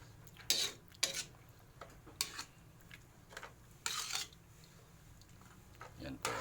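A spoon scrapes and knocks in a pot while raisins are stirred into Kapampangan atchara, giving irregular clinks and soft scrapes at intervals, with someone talking over them.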